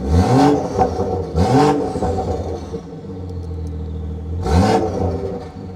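A BMW engine revs up sharply three times with deep exhaust burbles on the stock setting between blips, fairly loud and close, with an idle rumble in between.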